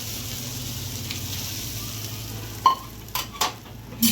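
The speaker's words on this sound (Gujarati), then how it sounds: "પછી આની માટે વઘાર આપણે પાથરી દઈશું" A soft, constant sizzle as tempering is poured over dhokla in a pan, broken by a few sharp clinks and scrapes of a utensil toward the end.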